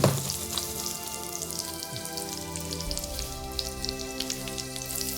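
Carrots fry in hot oil, a steady close sizzle with scattered crackling pops running the whole time, fairly loud and even, with no voices.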